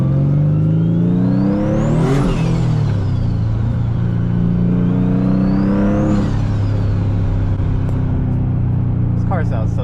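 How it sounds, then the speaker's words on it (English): Engine-swapped Nissan S15 revving hard twice, each rev climbing to a sharp peak and falling back to a deep steady idle rumble, loud and close, with a voice briefly audible near the end. "This car sounds so sick."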